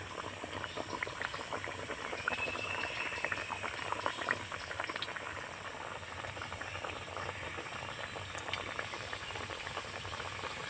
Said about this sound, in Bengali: তো খাজাগুলোকে একে একে তেলের মধ্যে ছেড়ে দেব।